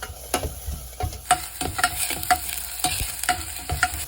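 Ingredients for doenjang stew stir-fry in a hot pan, with a steady sizzle and repeated scraping strokes of a utensil in an irregular rhythm, close and fairly loud, with no talking.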